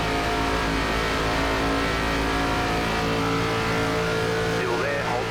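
A race car engine in iRacing's ARCA Series at Atlanta Motor Speedway drones loud and steady at full throttle throughout, with a constant harmonic roar and no break.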